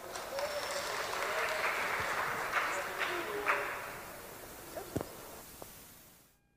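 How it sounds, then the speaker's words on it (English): A conference audience at GoViral 2019 applauds to welcome speaker Jeffrey Donenfeld. The clapping is dense and sustained, then it tapers and fades out near the end. "So please welcome, with your round of applause,"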